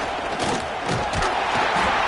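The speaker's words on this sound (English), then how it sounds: "This crowd is trying to inspire this defense to make a big red zone stop." A football stadium crowd roars to urge on the home defense ahead of a red zone stand, a dense, sustained wall of cheering and yelling that swells slightly toward the end.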